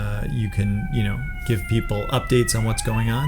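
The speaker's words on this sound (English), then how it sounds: "Sorry about the sirens." Wailing sirens rise and fall in pitch while a person keeps talking over them, loud and close enough to nearly drown the voice.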